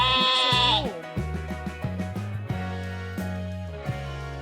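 A sheep on a farm gives a single nasal bleat at the start. Softer tonal sounds follow beneath it for a few seconds.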